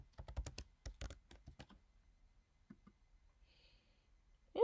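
Password tapped out on a computer keyboard, a quick burst of soft close key clicks followed by a pause, a couple of isolated taps and a final louder click, all faint and quiet.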